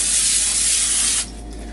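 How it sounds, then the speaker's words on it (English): A single loud, close hiss of cooking spray coated onto a foil-lined baking pan, lasting just over a second before cutting off abruptly. "So I'll go ahead and spray the aforementioned pan."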